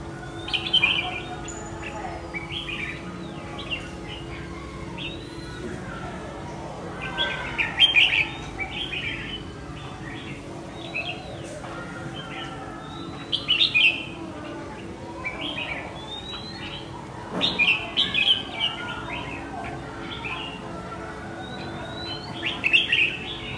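A red-whiskered bulbul calls in short, bright chirping bursts every few seconds toward a caged decoy bird outdoors, moderately near, over a low steady background hum.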